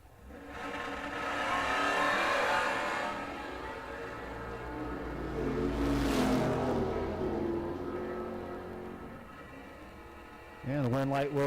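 Drag race cars, a red Chevelle chased by a silver Bullet, roar past at a door car event, engines swelling loud and then fading into a distant hum before another burst of engine noise at the end.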